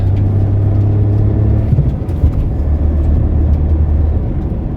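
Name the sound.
car accelerating fast after throttle body cleaning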